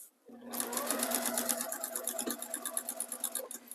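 Sewing machine running a straight stitch along quilt binding, a fast, even mechanical whir close up that starts abruptly and holds steady for about three seconds, with a voice partly over it.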